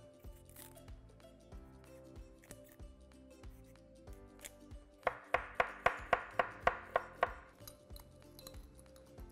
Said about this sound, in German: Zunächst Brokkoli schneiden und blanchieren.